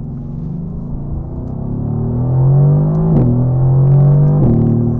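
A 2018 Mercedes-AMG GT R with a bi-turbo engine drones loudly under load, a low raw rumble rising steadily in pitch with two brief dips as gears shift, heard from inside the car with no talk.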